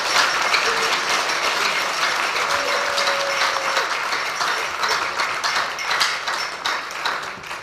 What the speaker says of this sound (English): Can we clap for the party, please?